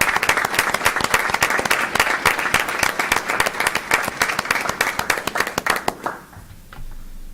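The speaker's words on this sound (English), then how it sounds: "Can we all give them a round of applause today?" Applause from an audience at a school board meeting greeting graduates, dense and loud for about six seconds before thinning into a few scattered claps and room quiet.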